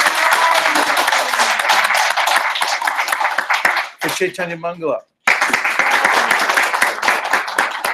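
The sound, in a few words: applause for Anjali's translation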